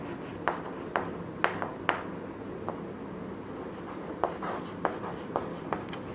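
Pen writing physics notes on paper: a quiet run of short scratchy strokes and taps, irregularly spaced, close up against a low background hiss.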